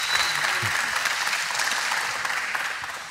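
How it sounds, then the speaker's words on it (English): A church congregation applauding, a dense, steady wash of many hands clapping that holds evenly and tapers slightly at the end, with faint crowd murmur beneath. "That deserves some applause, I think."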